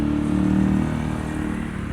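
A Honda SH150 scooter engine, a Vietnam-built import, revs steadily up close, its low, smooth hum rising briefly and then settling over two seconds, with no voices.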